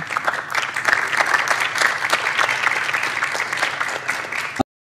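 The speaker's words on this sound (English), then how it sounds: "Please give her a big round of applause." Audience applauding a guest introduced onstage at a mom bloggers panel; dense, steady clapping from a full room runs for several seconds, then cuts off abruptly.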